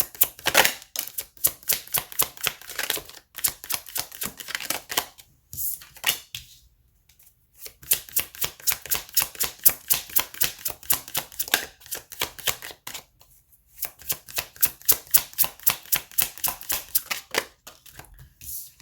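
Tarot cards shuffled and pulled from a deck, rapid riffling flicks in busy bursts broken by short pauses, close and fairly crisp, no voice.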